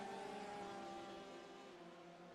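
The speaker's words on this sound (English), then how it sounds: "The sound of those beautiful Porsches, those flat six engines in the back of that Porsche" Porsche race cars with rear-mounted flat-six engines lapping Le Mans in iRacing, a steady distant engine drone with a sustained whining tone, fairly faint and slowly fading.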